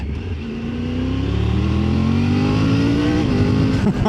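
A motorcycle engine revs steadily upward, its throaty, rumbling note rising in pitch and holding loud and close for several seconds.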